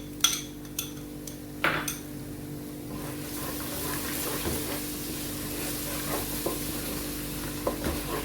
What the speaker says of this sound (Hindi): इस टाइम पे मैं इसमें 2 टेबलस्पून जो है वो दही डालूंगी मसाले में।